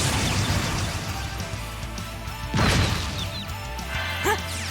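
A Shatter attack lands in the Trails of Cold Steel role-playing game: a loud crashing impact bursts out over dense battle music and effects, followed by a smaller hit near the end.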